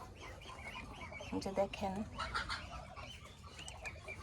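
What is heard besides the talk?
Chinese geese calling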